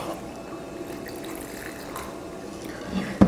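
Water is poured into a mixie jar holding grated coconut for grinding, a soft continuous trickle and splash with a louder clink at the very end.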